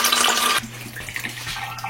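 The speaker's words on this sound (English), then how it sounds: "And then I'm going to go ahead and add a cup of water to my oatmeal." Filtered water poured from a cup into a bowl of oatmeal, heard as a close, steady splashing pour that turns to a softer, lower trickle partway through.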